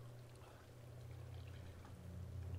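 Clean water pouring in Uncharted 3, a soft steady trickling stream that swells slightly, faint and alone with no talk.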